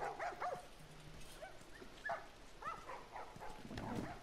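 Dogs in a settlement in The Last of Us, a post-apocalyptic game, let out soft yips, whimpers and a few short barks at moderate distance, scattered and irregular against quiet ambient noise.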